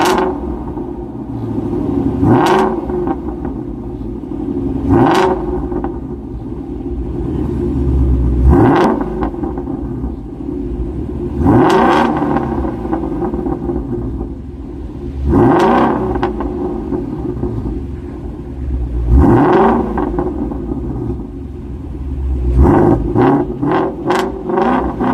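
A Ford Mustang Shelby GT350 engine revs hard again and again, each blip rising into a sharp roar and dropping back to a deep rumbling idle, loud and close with no talking.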